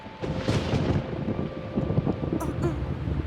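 A thunderstorm rumbles in an animated children's cartoon, with low rolling thunder and windy noise continuing for several seconds and swelling in loudness.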